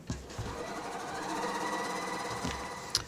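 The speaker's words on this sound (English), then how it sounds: "And this is the seam I'm going to stitch." A sewing machine runs a steady stitching burst along a fabric seam on a butterfly-wing quilt block, a continuous mechanical whir for nearly three seconds with soft clicks at the start and end.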